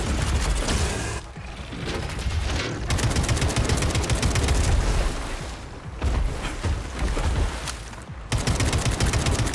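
Sustained automatic gunfire in the video game Atomic Heart, long dense bursts of rapid shots broken by a few brief pauses, loud and close with no voice over it.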